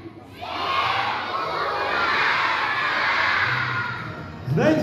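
Children at a New Year school party for a Twelve Months fairy-tale play shout together in a loud, sustained crowd call lasting several seconds, with a fresh burst of voices rising at the very end.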